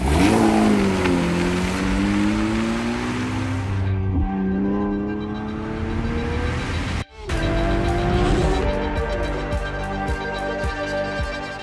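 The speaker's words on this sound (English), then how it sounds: "Narain immediately gets to grips with the GT3 RS and ducks into the 201s" A Porsche 911 GT3 RS production car screams around a race track on a flying lap. The loud, close engine climbs steadily in pitch through the revs, cuts off sharply for an instant at a shift, then surges again.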